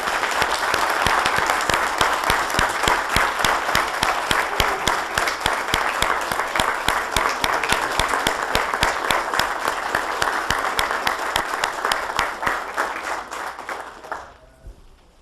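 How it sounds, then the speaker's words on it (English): A city council meeting audience, the mayor and aldermen present, gives a sustained round of applause, dense and steady clapping that holds for most of the stretch before thinning and fading out at the end. "Can we give them another round of applause for all of them?"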